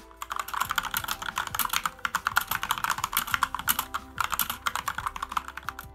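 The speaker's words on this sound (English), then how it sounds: "Gatoron Yellows, which is the switch this keyboard uses, are heavier than reds but lighter than blacks" Fast, continuous typing on a mechanical keyboard fitted with Gateron Yellow linear switches, a dense run of crisp close-up clacks with brief pauses and no talking.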